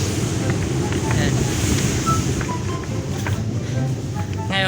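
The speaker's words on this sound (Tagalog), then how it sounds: "Napakalakas ang alon dito" Powerful waves crash along a beach in a steady, churning roar, with gusty wind rumbling across the microphone and people talking faintly nearby.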